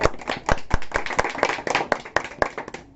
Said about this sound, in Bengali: একটা তালি হয়ে যাক